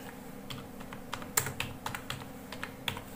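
Keystrokes tap out a short name on a computer keyboard, a quick run of light, irregular clicks close to the microphone in a quiet room.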